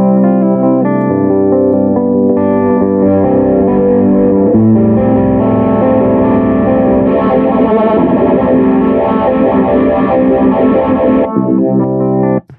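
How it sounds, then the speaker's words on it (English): Guitar played through the Studio One Ampire amp simulator with distortion pedals: a thick, saturated electric tone with sustained chords and changing riffs, loud and continuous, with chorus-like shimmer and no talking. "So I'm basically adding an amp, a couple pedals."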